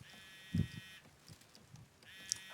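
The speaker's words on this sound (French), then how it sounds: "C'est un téléphone?" A phone buzzes with an incoming call in a video game, faint electronic tones sounding in a first stretch and again near the end, with a low thump and soft noises between.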